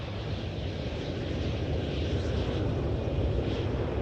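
A jet that has just landed on runway 27 at Amsterdam Schiphol Airport applies reverse thrust, a steady, heavy, broadband roar that holds at an even, loud level throughout without any voices.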